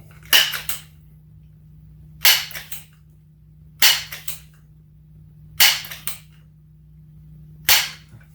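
A Xisico Hercules B5-10 .177 multi-pump repeater air rifle is cocked and pumped, producing five sharp mechanical strokes at an even, unhurried pace, each close and crisp, with quiet between them and no talking.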